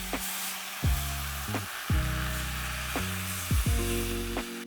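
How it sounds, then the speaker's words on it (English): Red wine hits a hot pan after duck has been cooked, giving a steady close sizzle and fizz with a few soft knocks and scrapes at intervals, no voices. "If your deglaze doesn't sound like this or something close to it"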